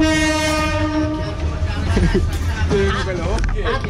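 A passenger train runs loud and close with a sustained horn tone early on, its rumbling wheels continuing throughout under crowd chatter and talking voices.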